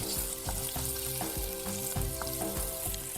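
Mixed vegetables, including three colours of capsicum, frying in a pan for vegetable baida rice, a steady close sizzle with repeated stirring scrapes and knocks throughout, no talk.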